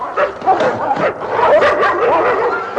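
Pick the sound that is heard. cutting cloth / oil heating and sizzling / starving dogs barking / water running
starving dogs barking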